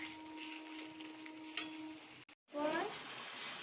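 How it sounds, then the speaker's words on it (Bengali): Chopped onions fried with turmeric, dried chillies and ginger-garlic paste for a mutton curry, a steady close sizzle with scraping stirs, briefly cut off before the frying resumes louder. "আমি এই দিয়ে একটু পেঁয়াজগুলোকে নাড়াচাড়া করে নিচ্ছি।"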